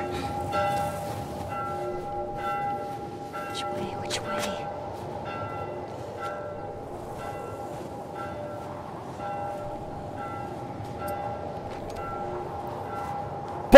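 Church bells toll in The Last of Us video game, repeated struck tones ringing out at a distance over a low ambient background, with occasional faint sounds under the steady ringing.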